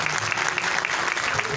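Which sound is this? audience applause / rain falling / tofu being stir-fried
audience applause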